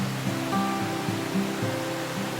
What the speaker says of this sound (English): We anchor in aptly named Ribbon Fall Cove, surrounded by magnificent waterfalls.